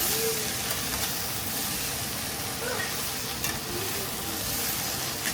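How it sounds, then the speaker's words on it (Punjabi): Steady sizzle of potato and cauliflower frying with turmeric and spices in a pan while being stirred, a continuous close hiss with faint scraping and no talking. "ਹੁਣ ਇਹਨੂੰ ਹਿਲਾ ਕੇ ਚੰਗੀ ਤਰ੍ਹਾਂ ਹਿਲਾ ਦਿਓ"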